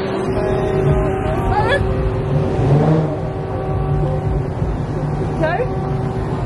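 A Chevrolet SS revving and spinning at a street car takeover, a loud sustained engine drone with rising rev sweeps, heard under people talking nearby.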